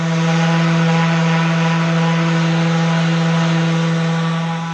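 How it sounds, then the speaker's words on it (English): A loud, steady power-sander whine drones continuously at close range while sanding wooden doors, an even mechanical hum with no pauses and no voices. "I'm sanding right now to get things going"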